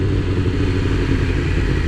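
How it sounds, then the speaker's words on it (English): A BMW S1000RR sportbike engine runs steadily at idle, a continuous close mechanical drone with a light clattering texture and no talk over it. "the motor still sounds great."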